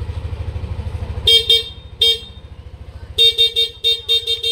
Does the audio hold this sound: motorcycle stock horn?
yes